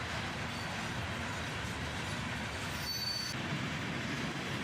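Two CSX freight trains pass each other, with gondola cars in the consist, making a steady broadband rumble of rolling railcars and a brief high wheel squeal partway through. The sound is continuous and moderately loud, with no talking.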